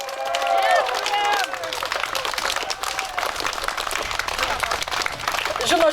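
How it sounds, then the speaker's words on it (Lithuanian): An audience claps together at a live outdoor event, with dense applause throughout and a few voices and cheers mixed in at the start. "Aš manau, tikrai jie nusipelnė karštų jūsų aplodismento ir didžiulio ačiū."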